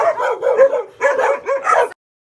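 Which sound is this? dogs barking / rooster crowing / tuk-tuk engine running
dogs barking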